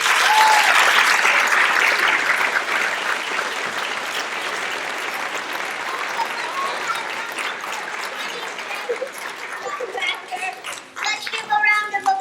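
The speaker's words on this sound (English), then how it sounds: "So how about a round of applause for that?" Loud audience applause at a school Nutcracker performance marking its 25th anniversary, a dense sustained wash of clapping that thins toward the end as a few children's voices emerge.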